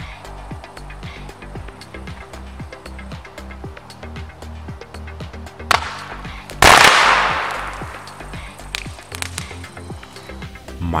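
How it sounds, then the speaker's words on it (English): A burst of crackling and popping as sodium reacts in open water builds into a sudden loud explosive blast, then the rough hiss fades over several seconds amid continued small pops. "let's finish the water reaction testing with open water explosion"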